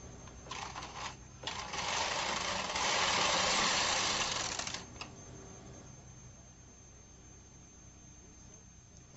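A Bond knitting machine carriage is pushed across to knit a row, giving a close, loud whirring clatter that swells for a few seconds and then fades to quiet background hiss.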